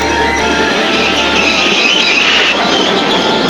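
A train brakes, rumbling along with a broad metallic screech and grinding of wheels on rails, loud and continuous.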